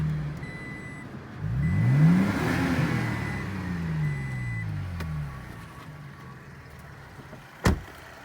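A third-generation Toyota Tacoma with a Magnuson supercharger revs up and then settles, its engine note sweeping upward and fading over several seconds, followed by a short sharp tick or thump near the end.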